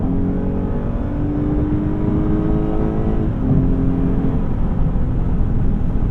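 Steady in-cabin engine and road drone from a 2015 Lexus GS350 F Sport cruising at about 70 mph in normal mode, with a smooth, continuous hum and a slight shift in tone midway.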